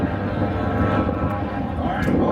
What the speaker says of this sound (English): y'all remember this? The old C-130 Hercules.